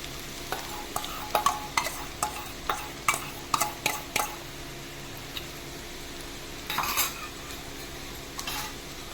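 A utensil scrapes and taps repeatedly against a frying pan in quick bursts, breaking up egg for pasta, with a soft sizzle underneath and a brief pause before more stirring.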